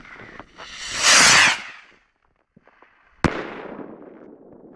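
New Year fireworks rockets go off outdoors: a rushing hissing burst swells and fades, a sharp bang follows after a quiet pause, and crackling trails off afterward.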